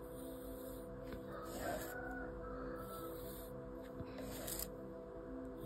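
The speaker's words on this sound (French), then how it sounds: "c'est le lever du jour et les coqs qui chantent." Roosters crow at dawn in a rural morning setting, several drawn-out calls rising over a steady background hum, moderately distant and fairly faint, with no talking.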